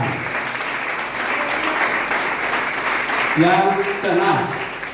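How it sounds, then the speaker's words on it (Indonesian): Church congregation applauding for God, a dense steady wash of clapping throughout, with a voice rising over it near the end. "Sekali lagi tepuk tangan bagi Tuhan"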